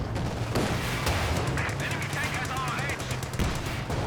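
Automatic gunfire from an armored car's machine gun in a tank battle video game, a run of rapid sharp bursts over a constant low engine rumble, fairly loud and close.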